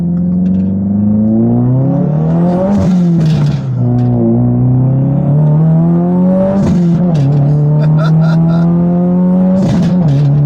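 A tuned Subaru WRX engine revs and accelerates loudly, its pitch rising and dropping through several gear changes, close up, with no voices.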